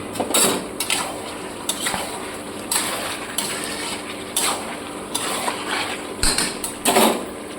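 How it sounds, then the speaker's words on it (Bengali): A metal lid lifted off a pot of Madras-style chicken curry, then a spoon stirring and scraping against the pan, giving repeated clinks and clatters at close range with no talking. "ঢাকনাটা সরিয়ে দিয়ে আবার ঘেটে দেবো ভালো করে।"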